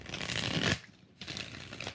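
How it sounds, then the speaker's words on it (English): Tarot cards are shuffled in two bursts, separated by a short pause. The riffling is quiet and close-up, with no speech over it. "One more shuffle."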